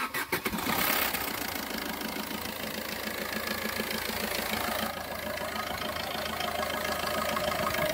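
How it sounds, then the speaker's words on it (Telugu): A 2017 Maruti Suzuki Ertiga ZDi diesel cranks briefly and catches, then settles into a steady, close, slightly knocking idle that runs on evenly with no talk. "సరే, వెహికల్ అయితే స్టార్ట్ చేస్తున్నాను చూడండి."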